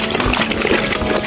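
Water pours and gushes steadily into a basin where shoes are set to soak, a continuous broadband rush of filling liquid with no voices over it.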